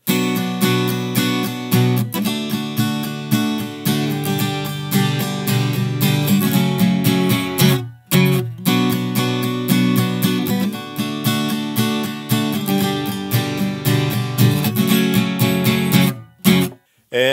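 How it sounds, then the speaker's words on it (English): Acoustic guitar plays the chorus strumming pattern of a song with dense, driving strokes. It is loud and close, with short breaks around eight seconds and near the end. "And there's our chorus strumming pattern."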